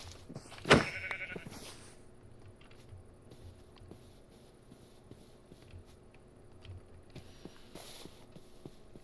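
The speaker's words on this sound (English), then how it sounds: "There's another sheep." A sheep bleats once, sharp and close, in a Minecraft survival game, followed by faint background game ambience and soft ticking clicks, with no talk.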